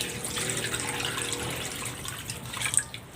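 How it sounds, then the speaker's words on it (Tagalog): Water running into a cooking pot holding pork belly and chicken breast, a steady splashing pour with small gurgles that builds slightly toward the end, close by with no talking. "Lagyan natin ng tubig."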